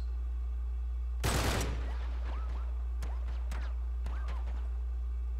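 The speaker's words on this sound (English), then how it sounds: "I'll just let Cutter do some shooting." Gunfire from an ally character in Uncharted 3: Drake's Deception, a sharp loud burst near the start followed by scattered fainter single shots and thuds within game sound, with no talk.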